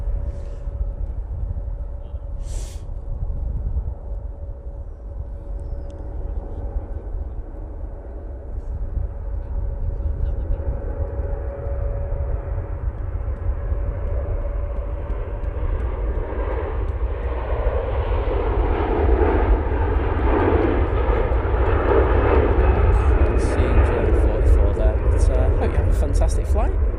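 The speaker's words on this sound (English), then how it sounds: "Virgin Atlantic. Finally on the roll." A Virgin Atlantic airliner begins its takeoff roll at Manchester Airport, a low engine rumble building into a rising, broadening roar that grows louder toward the end, with a voice talking over it early on.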